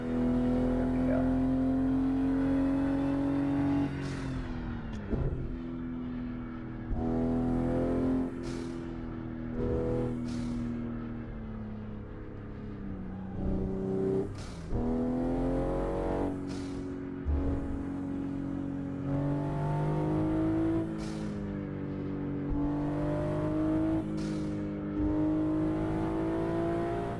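A car engine in a sim racing video game drones and revs steadily, shifting pitch through gear changes with sharp blips and dips, loud and continuous with no talking.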